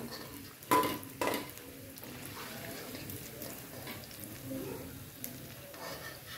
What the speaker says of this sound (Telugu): చూడండి, మంచిగా వేగినాయండి. తీద్దాము.